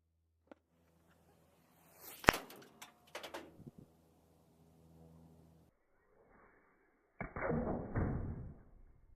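A 40 mm practice grenade strikes the ground with a sharp distant impact and ricochets, followed by a scattered rattle and a later burst of rushing noise outdoors.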